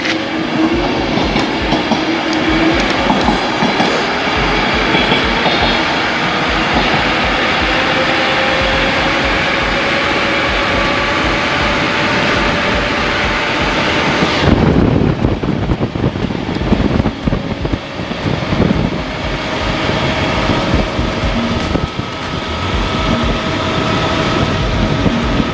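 A MiniMotors Dualtron Eagle Pro electric scooter accelerates hard from a standstill, giving a loud, steady motor whine and road rumble that changes character partway through as it keeps speeding along.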